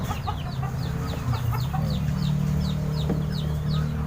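Red junglefowl in the wild clucking repeatedly in a quick, rhythmic series, with a low engine-like drone and outdoor ambience underneath.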